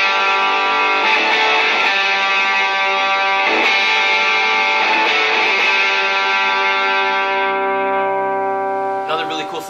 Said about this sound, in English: let's hear the spring reverb in